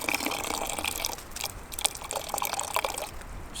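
Water poured over cowboy coffee grounds at a bushcraft camp, a steady liquid splashing and trickling with small drips, close and continuous for the whole stretch.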